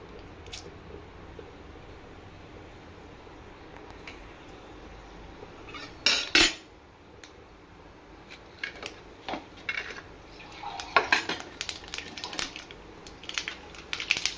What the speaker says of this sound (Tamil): இப்போ கடுகு பருப்பு போடுறேன்